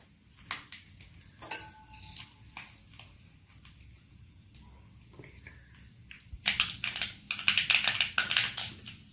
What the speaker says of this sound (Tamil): நல்லா கடுகு பொரியட்டும்.